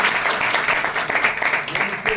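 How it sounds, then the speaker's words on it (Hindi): An audience at a Hindi-language religious convention gives a sustained round of applause, a dense, loud wash of clapping throughout with voices blended underneath. "क्या हम ताली दे सकते हैं?"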